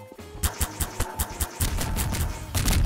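Rapid gunfire and explosions in Garry's Mod come as a fast string of loud, punchy shots, then a longer rumbling blast-heavy stretch, all close and intense.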